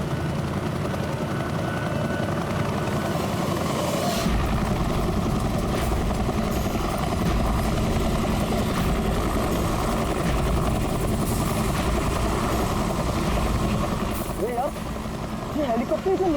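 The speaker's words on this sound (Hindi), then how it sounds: "ये हेलीकॉप्टर से नीचे क्यों उड़ रहा?" A helicopter flies low overhead, its steady rotor thump and engine whine continuing throughout, with people talking over it.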